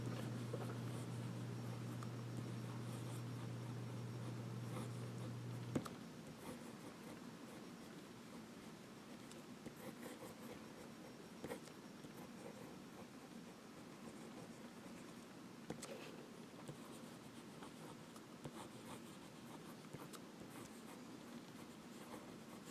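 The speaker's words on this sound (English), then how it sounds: "Now a little bit of writing." A Parker Frontier fountain pen writes on paper, a faint, soft scratching of strokes and small swirls heard close over a low background hiss, with no talking.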